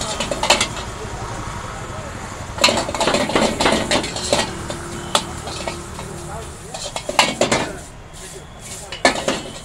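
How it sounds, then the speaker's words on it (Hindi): A street food vendor at a food truck sautés vegetables in a pan, metal utensils clattering and scraping in bursts over a low sizzle, with people talking nearby at times. "ये वेजिटेबल को थोड़ा भैया सॉल्टे कर रहे हैं"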